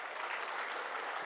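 Audience applause at a live Tamil comedy stage show fills the whole moment, a steady dense patter of many hands clapping at moderate volume, with no voices over it.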